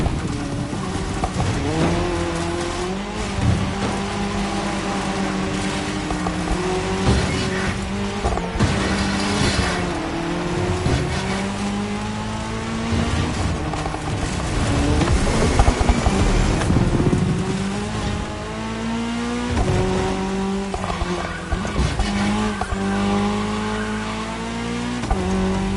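Race cars roar around a tarmac stretch of a cross-terrain race in The Crew Motorfest, engines droning and shifting pitch continuously with repeated tire squeals and skids, loud and close with no talking.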